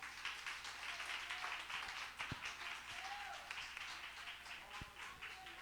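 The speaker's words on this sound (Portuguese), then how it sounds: "Aplaudindo ainda o Rei dos Reis" A church congregation applauds during a Sunday service, a steady, fairly faint wash of many hands clapping that carries on evenly, with a few low thumps and faint voices underneath.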